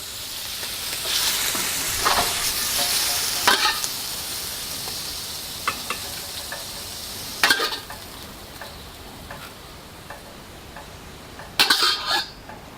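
Prawns stir-fried in a hot pan for fried rice, a loud continuous sizzle with bursts of scraping and clattering as the utensil tosses them, several sharper metallic knocks toward the end; no talking.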